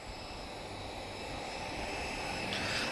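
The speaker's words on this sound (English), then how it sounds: "And the Lynx is airborne again." Lynx helicopter flying at the Portugal Air Summit airshow, a faint, distant, steady engine drone that swells slightly toward the end, no voices.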